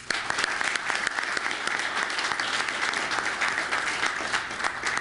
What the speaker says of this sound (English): I'd like to give them a round of applause as well